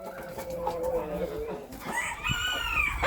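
A naked neck chicken crows and clucks nearby in a short, fairly quiet burst, with a faint voice speaking at times underneath.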